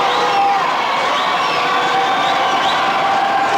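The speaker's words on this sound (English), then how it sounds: "The crowd trying to encourage Bill White." A crowd at a 1975 WWWF Championship Wrestling broadcast cheers on Bill White, a loud, continuous roar with scattered shouts and whoops that never lets up.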